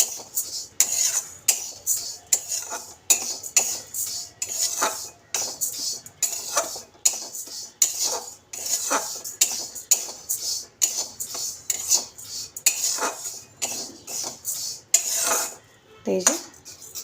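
Moong dal is dry-roasted in a hot kadai without oil, a utensil scraping and rattling against the pan in a steady, rapid rhythm throughout, close and fairly quiet.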